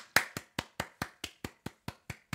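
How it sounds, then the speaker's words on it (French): Slow, sarcastic hand clapping by one person: about ten crisp, evenly spaced claps, close and dry, each decaying quickly, with silence between them and no talking. "Vraiment, applaudissons le système glorieux"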